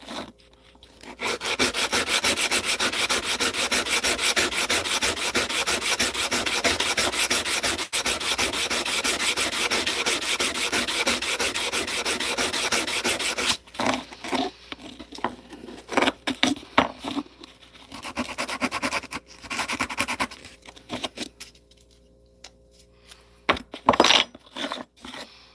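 A wooden handle is sanded by hand, long continuous rasping strokes at first, then a series of shorter, separated scrubbing bursts with brief pauses between them, close and alone.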